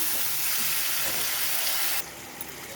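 Tomatoes for a pickle sizzle softly in a pan while being stirred, a faint continuous frying hiss that drops noticeably quieter partway through.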